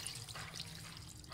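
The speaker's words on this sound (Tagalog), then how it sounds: "Yan yung gata natin mga kapangit, buhos na natin." Coconut milk is poured into a pot of simmering tulingan paksiw fish stew, giving a steady, continuous liquid pour close by with no talk over it.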